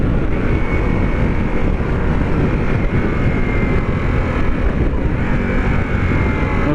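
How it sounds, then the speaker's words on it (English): A 2021 Harley-Davidson Pan America motorcycle engine drones steadily under heavy wind buffeting, holding a low, rough rumble that eases slightly as it downshifts and engine-brakes. "I'm going to downshift, see how it feels for engine braking."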